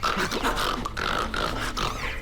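A cartoon dog named Romain growls in a rough, continuous rumble with snorting breaths, close and steady for about two seconds, with no talk over it.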